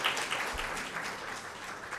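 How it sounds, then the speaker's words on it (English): Audience applause for the head of program at a World Malaria Day event, a dense, steady wash of many hands clapping at moderate level that continues through the whole moment. "Again, a round of applause to our head of program."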